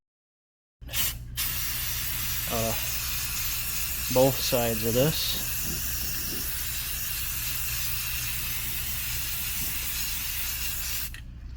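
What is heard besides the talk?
spray paint aerosol can spraying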